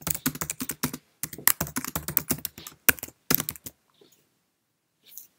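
A caption typed on a Mac keyboard: rapid, crisp keystrokes in close, loud bursts separated by brief gaps, then near silence with a last faint tap, no voices.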